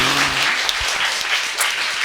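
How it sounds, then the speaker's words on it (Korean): A church congregation at a Korean sermon service breaks into brief applause, a dense burst of hand clapping that stays fairly even and lasts about two seconds. "박수"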